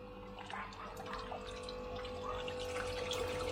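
A small waterfall from a DIY aquarium canister filter trickles and splashes steadily nearby, a soft continuous flow with a faint low hum underneath.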